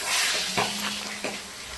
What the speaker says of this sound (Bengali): মাছ দিয়ে দিয়েছি কড়াইয়ের মধ্যে।